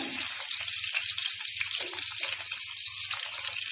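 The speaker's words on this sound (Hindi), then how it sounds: "अभी मैं बिल्कुल मीडियम टू लो पे इसको फ्राई कर रही हूँ" Eggs frying in a pan on medium-low heat for egg korma, a continuous close bright sizzle and crackle with steady loudness throughout, under a faint low hum.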